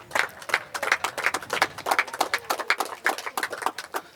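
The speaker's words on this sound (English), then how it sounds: "So I would ask for another round of applause for the young men." Audience applause for young men at a welcome ceremony for Grenadian artistes, a steady run of dense, rapid clapping across the whole stretch, fairly close and even in loudness, with no voice over it.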